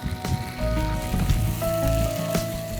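Spicy dum aloo being stirred in a hot pan gives a close, continuous sizzle with scraping and clinking from the stirring and a few sharp spits, and no voices.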